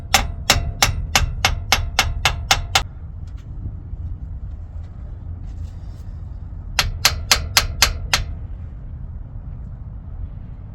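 Hammer tapping a kingpin into place on the pusher axle of a Kenworth T880 truck: two close bursts of sharp metallic strikes, nine quick blows, a pause, then about six more, over low background noise.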